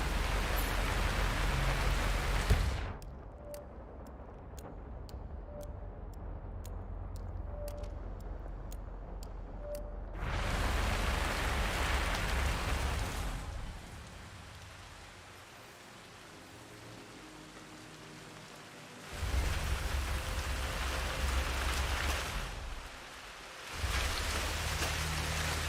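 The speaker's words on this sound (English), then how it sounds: "Rain, rain, nothing but rain." Rain falls in Hitman III, a loud steady hiss that drops to a softer patter in the middle and then swells back to a heavy downpour, with a faint rhythmic tapping in one quieter stretch.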